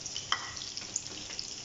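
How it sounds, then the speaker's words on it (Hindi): Chopped garlic sautéing in a tablespoon of hot oil, a soft steady sizzle with light stirring scrapes, faint and close, no talking. "थोड़ा सा लहसुन को हम सौते करेंगे"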